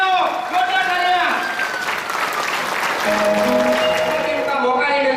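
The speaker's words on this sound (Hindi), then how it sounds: "खड़े होकर जोरदार तालियां, जोरदार तालियां।" A standing audience at a business success seminar in Kamrej, Surat claps loudly and steadily, a dense wash of applause running throughout with faint voices and tones mixed in.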